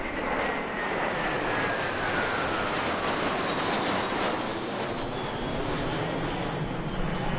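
Jet fighter such as a MiG-29 roaring overhead at an AirVenture 2022 airshow, a continuous loud broadband engine rush with a slowly falling whine across the whole stretch.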